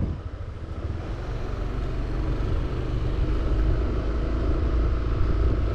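A Yamaha Aerox 155 Connected scooter setting off and riding, a steady engine drone and road rumble building slightly, mixed with wind noise on the microphone.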